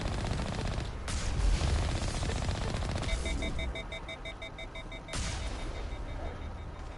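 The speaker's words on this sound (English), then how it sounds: "That cannon is powerful." A powerful cannon in Mass Effect Legendary Edition fires in rapid, loud, close bursts. Rhythmic electronic beeps sound through the middle stretch.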